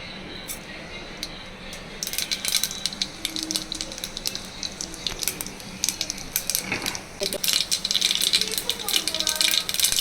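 Mustard seeds spluttering in hot oil inside a pressure cooker: after a quieter start, a dense, close, continuous crackling and rattling spatter builds and keeps going to the end.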